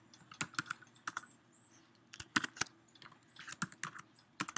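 Keys on a computer keyboard clack in irregular bursts of quick taps, close and clear, with short pauses between words as links are typed in.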